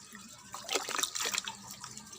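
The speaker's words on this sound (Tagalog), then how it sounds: "ayan didiligan natin to ng tubig" Water pours and splashes briefly onto a plant being watered, a short gush of spattering liquid close by, with faint background noise before and after.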